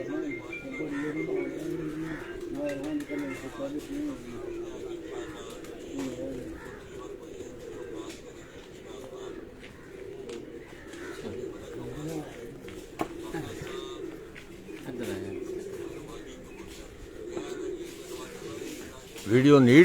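Pigeons coo in a low, repeated murmur throughout, steady and fairly close, with a voice talking over them for much of the time.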